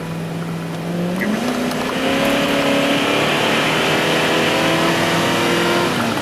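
A Dodge Ram 1500 pickup with misfiring, sputtering trouble runs steadily, then its engine is revved to a higher, sustained pitch, loud and close throughout.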